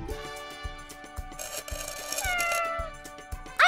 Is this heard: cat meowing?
yes